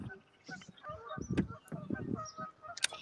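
A person imitates Canada goose honking, producing a run of nasal honks and squawks, close and fairly faint, in an irregular rhythm.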